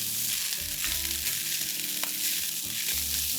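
Day-old rice and corn stir-frying in a hot pan for a teriyaki mushroom rice bowl, a steady close sizzle with soft scraping and tossing, no voices.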